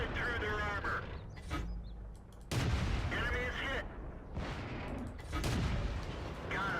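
Light tank gunfire in World of Tanks, sharp booming shots at a quick rate fired in close succession alongside engine rumble and game effects, with someone talking over the action.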